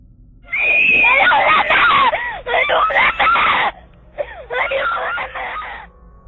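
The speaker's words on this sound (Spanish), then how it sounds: "Un agudo grito traspasó el salón donde todos estaban reunidos." A child screams for help in long, high-pitched wailing cries, loud and close, broken by short pauses.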